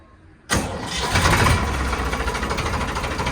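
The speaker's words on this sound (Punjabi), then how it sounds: "ਹੁਣ ਕਰਦੇ ਆ ਟਰੈਕਟਰ ਸਟਾਰਟ" A heavy tractor engine cranks and catches abruptly, then settles into a loud, steady idling rumble close by.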